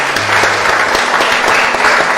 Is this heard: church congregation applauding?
yes